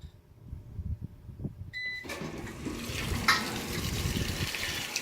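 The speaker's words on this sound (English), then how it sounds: "I'm going to add fabric softener to the dispenser and flush it with some water" Water rushes into the fabric softener dispenser of a 2017 Speed Queen washer, starting after a couple of quiet seconds with a few clicks, then a steady, fairly loud spray and gurgle.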